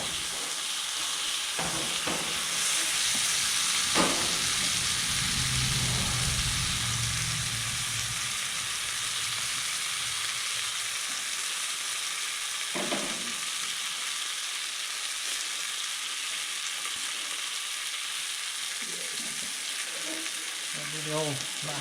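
A swordfish steak with butter and seasoning sizzles on a hot grill, a steady broadband hiss running throughout at moderate level, with a few faint knocks and scrapes scattered over it.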